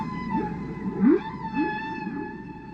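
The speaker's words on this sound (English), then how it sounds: "Here is the song of one humpback whale." A humpback whale sings underwater, with sustained tonal moans, a rising whoop and softer upswept calls over a steady background hum. No other sounds are present.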